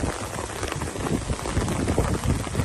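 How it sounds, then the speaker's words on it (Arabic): Hail and rain pour down steadily outdoors in dense, close pattering and crackling, a constant loud wash with no voices. "مطر ثلجي"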